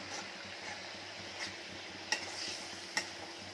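Chop spice mix with tomatoes being stirred in a pan for cabbage chops, a soft steady sizzle underneath with a couple of sharp spoon clinks against the pan.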